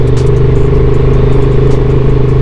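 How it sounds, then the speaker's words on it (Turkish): A car engine drones loudly and steadily on a road near Elevit in Rize, a constant close mechanical hum with no break for the whole moment. "Araba geliyor şuraya"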